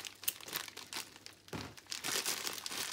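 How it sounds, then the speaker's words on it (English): A sealed plastic bag holding a Funko figure is cut open with scissors, giving close, quiet crinkling and snipping sounds in irregular bursts. "Get the old scissors, give the bag a chop."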